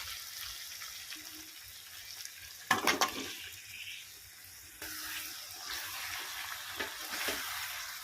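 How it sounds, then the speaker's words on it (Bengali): Chicken pieces hit a pan of cooked-down spice masala, setting off a sharp burst of sizzling with a few scrapes, then a steady, moderately loud frying hiss. "মশলাটা কষানো হয়ে গেছে, চিকেনটা দিয়ে দেবো।"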